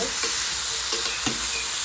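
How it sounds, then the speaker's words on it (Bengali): Chicken with whole green chillies sizzles steadily in a hot pan while a utensil scrapes and stirs through it a few times. "এবার একটু ভালো করে নেড়ে নেব"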